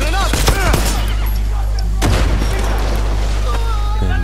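Gunshots in Far Cry 6, a few loud, sharp reports near the start and midway over a constant low engine-like hum, with a voice speaking between the shots.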